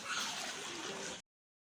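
About fourteen litres of water boil in a large cooking pot for chana pulao, a bubbling, gurgling wash that holds steady for just over a second and then cuts off abruptly.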